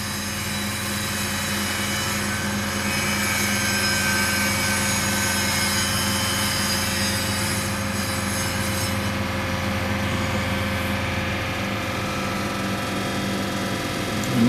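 A 2005 Honda Civic Hybrid engine runs steadily at idle, a continuous low hum with a rhythmic pulse and constant loudness, heard close up with no voices.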